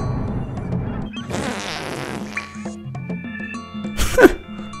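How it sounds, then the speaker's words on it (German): A game character in BattleBlock Theater lets out a cartoonish fart, a long broadband burst in the middle, with game music and effects around it and a sharp sound near the end. "ich kann furzen und in die Luft gehen"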